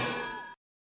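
A single anvil clang alert sound effect, one loud, bright metallic strike that rings with a sustained tone for about half a second, then cuts off abruptly to silence.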